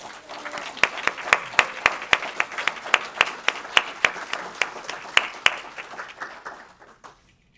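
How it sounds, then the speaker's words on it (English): Applause from a small group at a Sunday congregation drum circle gathering, with sharp claps falling into a fairly even rhythm before tapering off and stopping. "give him a round of applause"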